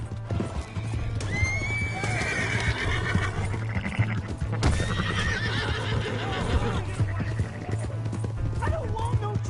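In the video game Red Dead, a horse whinnies loudly over steady clip-clopping galloping hooves, with a second neigh later, shouting voices and a constant low hum underneath.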